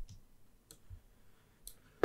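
A few soft, crisp computer mouse clicks spaced irregularly across a couple of seconds in a quiet room, faint and close, with no talking.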